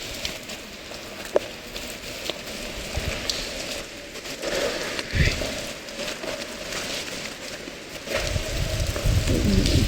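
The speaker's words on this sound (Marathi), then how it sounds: "पाऊस चालू आहे त्याच्यामध्ये दिसत नाही." Rain falling over open grounds at Vasai Fort, a steady diffuse hiss with soft patter that swells louder toward the end, heard close and without other prominent sounds.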